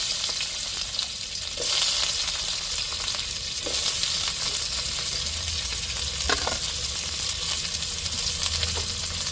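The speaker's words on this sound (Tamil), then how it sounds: "இப்போ எண்ணெய் சூடேறிட்டு வெங்காயத்தை சேர்த்துக்கிறோம்." Chopped onions hitting hot oil for a Tamil-style aviyal: a steady, bright sizzle and crackle runs throughout, with occasional soft stirring clinks and no voices.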